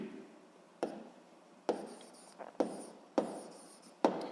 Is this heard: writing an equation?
yes